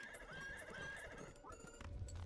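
A horse neighs in a drawn-out whinny from the video game Balatro, clear and fairly near against a busy background, with a low rumble near the end.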